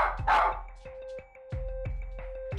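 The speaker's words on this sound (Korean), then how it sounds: "설 수레이너가 다가가자 짖음이 점점 잦아드는데요" An agitated, overexcited small dog indoors barks in sharp repeated yaps, about one every half second, loud and close over a steady electronic hum, with no talking.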